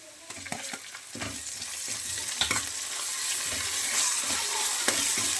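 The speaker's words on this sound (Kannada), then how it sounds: "ಈ ಥರ ಎಣ್ಣೆಯಲ್ಲಿ ಫ್ರೈ ಆಗಬೇಕಿದು" Ginger garlic paste fries in oil with browned onions for a mutton biryani. The sizzle is loud and crackling, broken by repeated scraping stir strokes, with no voices.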